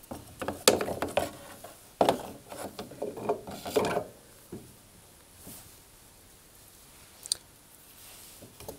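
A fan is fitted back onto the shaft of a Hoover tumble dryer: scattered metallic clicks, scrapes and rattles cluster early on, then thin out to a few faint taps in a quiet room.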